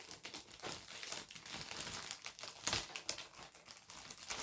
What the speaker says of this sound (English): The bags are a little tight, so I have to be extremely careful how I put them back in.